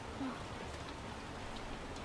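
Steady rain falling as background ambience in a visual novel game, a soft even hiss of a downpour throughout without talk.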